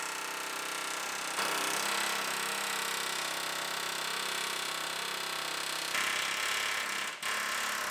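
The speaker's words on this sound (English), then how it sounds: "You can see how much faster the chisel goes through the bottom." Air chisel cutting through a rusty frame rail on a 1965 vehicle, a continuous loud buzzing hammer rattle running steadily with a slight pitch shift midway and a brief dip near the end.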